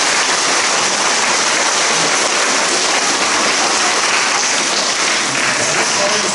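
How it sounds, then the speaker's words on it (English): A school crowd at an elementary school playground dedication applauds a city worker, a steady wash of clapping that stays loud and unbroken throughout. "I want you all to clap nicely"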